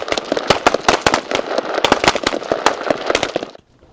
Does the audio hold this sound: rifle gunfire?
yes